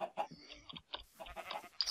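Blocky sheep bleats from the video game Minecraft, modded with Tekkit, come in several short, nasal calls in quick succession, fairly close and clear, with no talk over them.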